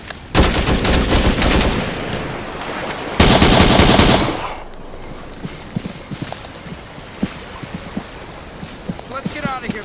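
Gunfire in the Arma 3 Vietnam War mod: two loud bursts of rapid automatic fire close by. Scattered single shots follow, crackling at a distance.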